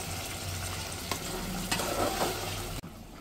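Meat frying in spices in a hot pan, a loud continuous sizzle with stirring scrapes, ending in a sudden drop as the stirring stops.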